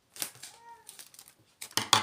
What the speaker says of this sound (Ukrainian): Беремо далі скотч.